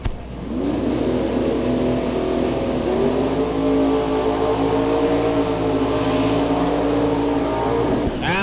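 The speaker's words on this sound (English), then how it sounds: "huge smoky burnout for that actually aspirated 632 cubic inch Fiaro from New York" A naturally aspirated 632 cubic inch Fiero drag car in the Outlaw Big Tire class holds a loud, sustained high-rev engine roar through a smoky burnout at a drag strip, steady and close, with rising pitch and no break.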